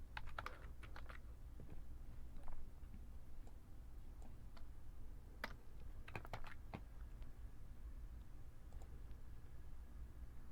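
Code being typed on a computer keyboard, quiet irregular clusters of key clicks and taps with short pauses between bursts, close and faint with no talking.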